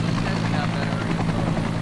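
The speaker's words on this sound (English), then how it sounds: "Helicopters called heli-torches are throwing fire at designated areas to create a line to stop the fire" A heli-torch helicopter drops fire during wildfire controlled burns, its rotor a loud, continuous close drone with a voice talking over it.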